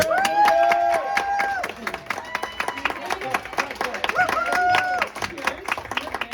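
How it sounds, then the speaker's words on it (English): Comedy club audience at Ada's Lab in Seattle applauding, a dense patter of clapping with whoops and cheers, loud at first and easing off, with voices calling out over it. "I want everybody to give him a big round of applause"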